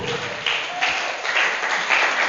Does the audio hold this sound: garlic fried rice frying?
no